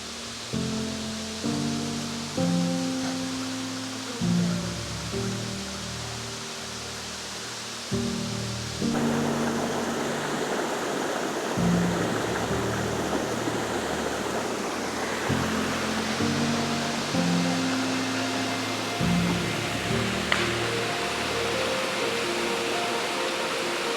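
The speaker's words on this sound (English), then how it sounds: "So we're to the second waterfall" Rushing waterfall on a hiking trail at Ricketts Glen State Park, a steady broadband roar that is loud and constant. After the first few seconds it swells and covers everything, with low tonal sounds in the first part and no speech.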